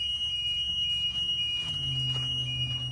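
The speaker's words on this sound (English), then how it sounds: "I hear the buzzer." Rear door warning buzzer on a First Student school bus during a pre-trip inspection, a continuous high electronic tone sounding steadily over a low engine idle for the whole stretch.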